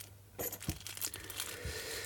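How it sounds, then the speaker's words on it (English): Plastic packaging being cut and torn open on a Japanese Monchhichi USB power bank gives a close, sharp rip followed by crinkling and a few crunchy rustles. "So let's cut that seal and get it out."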